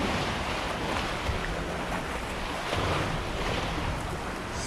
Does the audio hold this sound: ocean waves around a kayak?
yes